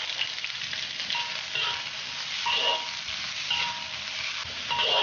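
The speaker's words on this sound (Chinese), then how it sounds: "锅内加入食用油，油烧热之后加入洋葱爆香。" Onions sizzle and crackle as they are stir-fried in hot cooking oil in a wok, a steady close frying hiss with brief swells as the pieces are stirred.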